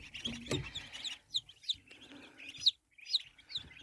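Newly hatched mulard ducklings peep in a series of short, high, separate calls at close range, with faint rustling between them and no voices.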